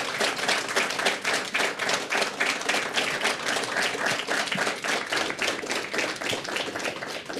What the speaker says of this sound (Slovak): Ďakujem vám veľmi pekne za potlesk